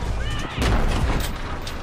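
Tank machine guns and cannons fire in a video game trailer, a dense, loud barrage of gunfire and booming blasts with a heavy explosion near the middle, all sustained without pause.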